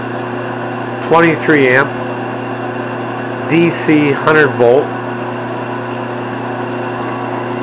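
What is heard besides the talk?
3.2 hp treadmill motor spun by an engine lathe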